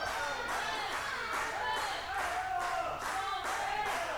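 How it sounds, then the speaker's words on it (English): Fans at a televised wrestling match clap in a steady rhythmic beat, roughly two claps per second, a dense crowd sound filling the arena and sustained throughout. "The fans here clapping."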